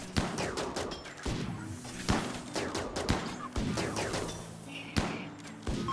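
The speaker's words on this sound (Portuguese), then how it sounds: "Caramba, Fábio, você tomou esse tiro de bobeira, hein?" Bursts of gunfire in the game RimWorld crack out repeatedly, sharp shots spaced irregularly amid rattling fire and thuds, with little talk.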